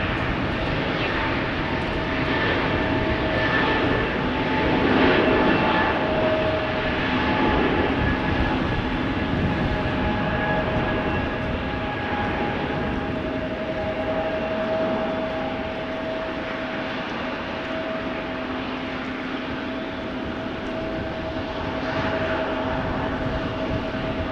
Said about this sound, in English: KM Malta is taking off to Malta